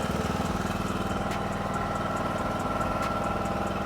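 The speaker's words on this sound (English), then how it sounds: "I'm gonna fire this lawnmower up and cut this grass and see how it runs" A John Deere D105 lawn tractor engine, recently repaired for a carburetor problem, runs steadily at close range with an even, pulsing mid-pitched drone and no talking.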